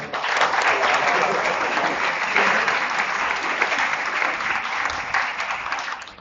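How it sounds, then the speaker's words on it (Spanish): A conference audience at an academic gathering gives a sustained, full round of applause after a talk, steady and fairly loud for about six seconds without interruption. "Bueno, muchas gracias, lo aplaudimos"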